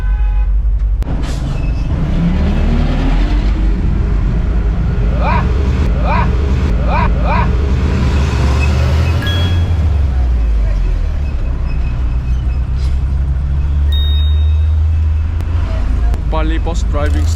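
Heavy bus engine rumbling steadily while driving on a road in Indonesia toward Bali, with gear changes and a hiss of brakes, heard from inside amid occasional chatter and beeps.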